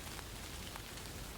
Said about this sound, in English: listen to the rain through the leaves